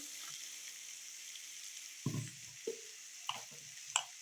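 Salt and spice powder sautéing in oil for an oil-style brinjal curry: a steady, soft sizzle hisses throughout, broken by four brief scrapes of a spoon stirring the pan.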